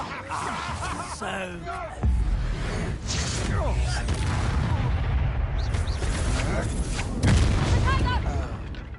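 Confringo explosive spell blasts in Hogwarts Legacy during a duel, with booming impacts and whooshes over dense combat noise, and voices shouting spell names throughout.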